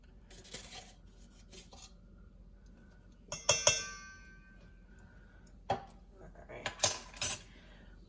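Dry ingredients including baking powder clink and scrape as they are mixed in a bowl for carrot cake oatmeal cookies, scattered utensil taps over a quiet background with a few louder clatters near the end.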